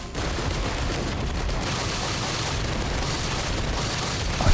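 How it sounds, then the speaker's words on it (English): Dense, crackling bursts of explosions from bleeding enemies in Risk of Rain 2 pile up continuously as loud, noisy game effects with no pauses, ending in a slightly sharper burst. "most of these explosions are because of those two yellow items I got"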